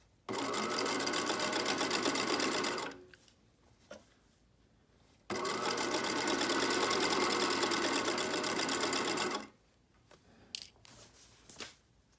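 A sewing machine stitches swim binding onto a swimsuit in two long steady whirring runs, each about three to four seconds, separated by quieter pauses with light handling noise.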